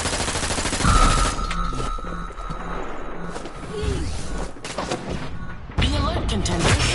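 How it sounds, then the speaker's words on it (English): Bursts of enemy automatic gunfire in the online shooter game Hyper Scape, rapid repeated shots under a player's talk and game announcer voice, with a whooshing effect partway through. "Oh yeah, enemy fire."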